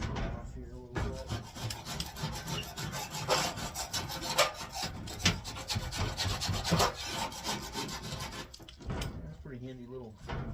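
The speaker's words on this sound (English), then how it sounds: "So, scrape this little off here a little bit." Scraping residue off the inside of a Green Mountain Daniel Boone pellet grill with a small hand tool, a steady close rasping and grinding of metal under quiet talk.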